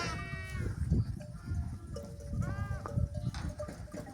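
Sheep and lambs bleating in a pen while being sorted for parasite treatment; several overlapping calls, some long and wavering, come close and fairly loud over shuffling and rustling, with a faint bell in the mix.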